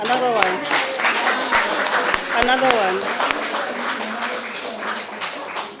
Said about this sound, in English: guys, another round of applause, please